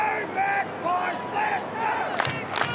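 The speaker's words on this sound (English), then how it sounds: "It is a big crowd now." A large crowd at an Australian football match between Carlton and Collingwood roars and cheers, a steady close wall of voices with a few sharper bursts near the end.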